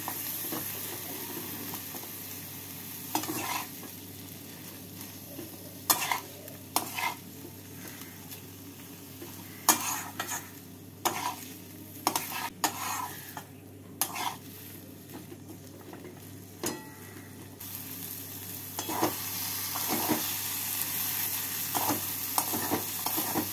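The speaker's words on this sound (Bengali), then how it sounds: "ছানা আর ডালটাকে ভালো করে মিশিয়ে নিলাম।" Chhana and lentil paste being mixed in a pan for chholar dal chhanar kabab, with steady soft stirring and scraping strokes and faint sizzling, close and alone without talk.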